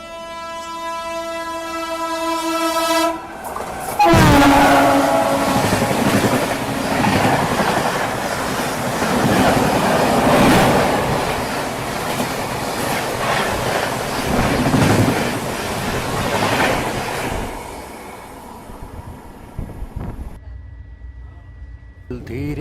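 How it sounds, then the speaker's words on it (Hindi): A passenger train rolls into Khandwa Junction railway station, a long horn blast opening before a loud, sustained rumble of wheels and carriages that fades near the end, with voices heard faintly. "धीरे धीरे अपना अराइवल हो रहा है खंडवा जंक्शन रेलवे स्टेशन पे।"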